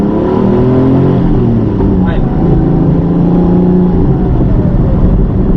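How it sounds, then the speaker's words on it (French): A 1988 Porsche 930 Turbo engine revs loud and close as the accelerator is pressed, a continuous deep roar that holds steady with a slight rise in pitch, with cabin noise filling in under it. "si je mets un coup l'accélérateur là"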